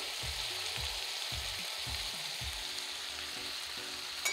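Peas and chickpeas fry in a pan for a Maharashtrian Bhogichi bhaji, a continuous hissing sizzle broken by regular soft knocks and scrapes of stirring, close but fairly quiet.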